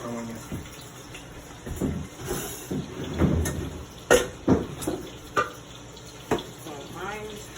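Excess water draining from cooked mac and cheese pasta into a kitchen sink, a steady splashing pour with irregular gurgles and clunks, heard close, with a voice speaking over parts of it.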